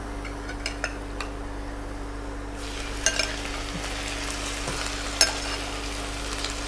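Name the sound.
chicken frying and stirred with browned onions in pan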